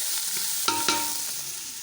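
Garlic, onion and ginger sauté in a pan for beef mandonggada, a continuous close sizzle broken by two clanking stirs of a utensil against the pan.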